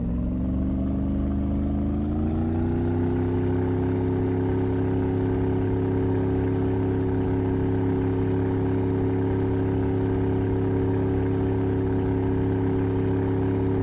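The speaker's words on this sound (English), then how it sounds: "It sounds like this boat has a pretty powerful motor," A boat motor in the video game Mon Bazou revs up over the first couple of seconds, then settles into a loud, steady, even drone that holds alone to the end.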